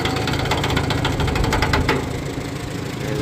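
A tractor engine runs loud and close as the PTO engages for mowing, with a continuous knocking chug that stays steady, then eases slightly near the end.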